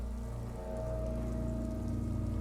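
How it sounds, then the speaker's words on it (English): Steady rain falling in the Disco Elysium game world, a continuous dense patter on surfaces under a low ambient hum, even and unbroken throughout. "By the way, it started to rain."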